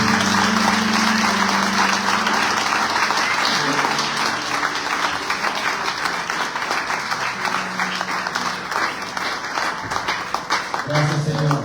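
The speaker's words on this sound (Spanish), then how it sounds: "Aplaudan a Él, por favor." A church congregation at a Sunday service claps together in a sustained, loud wash of applause, with voices and some tonal sounds mixed in beneath the clapping.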